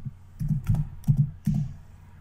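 Keystrokes on a computer keyboard while entering a search term in PowerPoint, a few short bursts of clicky taps in quick succession, close and fairly quiet with no talking.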